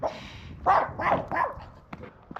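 A guard dog in Russia barks three times in quick succession, fairly close and loud, followed by a few faint clicks, with no talking.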